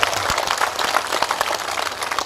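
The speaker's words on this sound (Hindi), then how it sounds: "इतनी जबरदस्त तालियां होनी चाहिए" A rally crowd applauds loudly, with dense sustained clapping that runs steadily throughout, close and unbroken.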